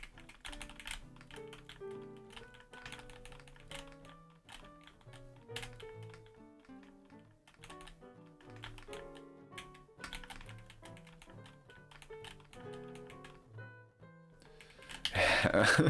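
Computer keyboard keys are pressed rapidly while playing Tetris, a near, busy stream of clicky taps and bursts that rises to a louder flurry at the end.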